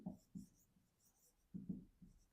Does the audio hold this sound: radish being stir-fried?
no